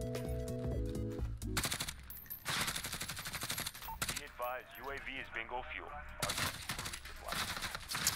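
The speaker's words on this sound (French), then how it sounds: "Pourquoi vous êtes plusieurs à me tirer?" Rapid bursts of automatic gunfire in the video game Call of Duty Warzone, repeated volleys close and loud, mixed with a player talking.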